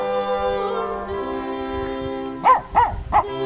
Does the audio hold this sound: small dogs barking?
yes